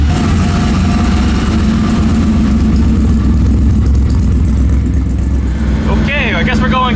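A cheap Volvo with an LS V8 swap making 800 horsepower runs with a deep, steady rumble up close, while people talk over it.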